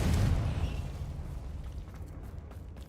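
A Confringo fire spell bursts in the Hogwarts Legacy video game: one loud blast at the start, then a rumbling decay that fades over the next few seconds, with no voices.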